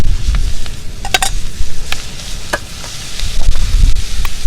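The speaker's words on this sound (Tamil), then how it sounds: "நறுக்கி வச்ச வெங்காயத்தை இப்போ நம்ம போடுறோம்." Chopped large onions hitting hot oil with whole spices for Tamil mint chicken, giving a steady close sizzle with a few sharp clinks of a spoon against the pan.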